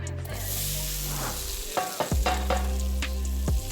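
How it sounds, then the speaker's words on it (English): Cubed potatoes sizzling in hot butter in a pan with a continuous hiss, a few sharp clacks and scrapes as pieces hit or are moved about. "Gotta love that sizzle."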